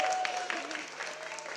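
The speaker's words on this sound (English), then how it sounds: "Round of applause." An audience at a baking demonstration in a Leeds shopping centre gives a brief round of applause, with a scattering of claps over a constant background hum and faint voices.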